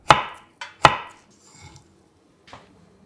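A knife cuts avocado into thin strips on a board: three sharp cutting knocks in quick succession, then a softer tap and one final knock after a pause, close and clear with no talk.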